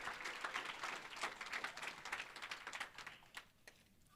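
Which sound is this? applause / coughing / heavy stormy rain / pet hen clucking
applause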